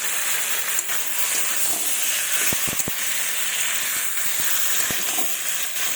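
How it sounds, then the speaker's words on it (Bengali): Chopped tomato goes into a small bata fish and broccoli curry in a pan, producing a steady, hissing sizzle punctuated by a few quick spatula knocks while it is stirred. "এবার এর মধ্যে টমেটো কুচিটা আমি দিয়ে দেবো, দিয়ে ভালোভাবে আবারও নাড়িয়ে নেব"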